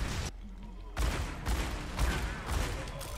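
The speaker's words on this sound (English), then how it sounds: "Watch me miss all my shots." Dense, loud bursts of gunfire from Overwatch 2 during a Halloween PvE event, coming in repeated rapid volleys with a brief lull early on, under constant game noise.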